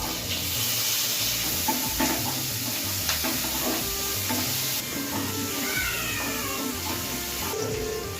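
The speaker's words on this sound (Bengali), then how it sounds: "এবার পেঁয়াজটাকে ভালো করে ভেজে নেব" Chopped onion and slit green chili fry in hot oil, a dense, steady sizzle running the whole time with a few faint clinks mixed in.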